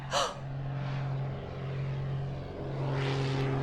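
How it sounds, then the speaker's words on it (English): An airplane drones overhead as a steady low hum with a broad whooshing swell that rises toward the end, fairly faint and continuous, with a brief sharp sound at the very start. "I hear an airplane."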